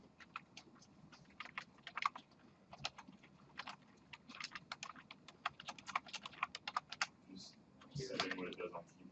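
Computer keyboard keys clatter in quick irregular bursts of typing during Python turtle coding, quiet and steady, with some low murmuring in the background.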